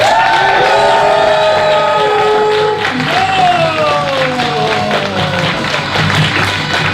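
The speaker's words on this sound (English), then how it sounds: "Make some noise for Luke Null, everybody!" A comedy club audience applauds and cheers loudly for comedian Luke Null, with a steady wash of clapping, scattered whoops and whistles, and shouts rising above the crowd for the full stretch.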